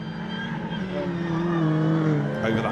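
Mini race cars on a loose, damp rallycross surface, engines droning steadily and rising as they pass close by, with a race commentator's voice running over the noise.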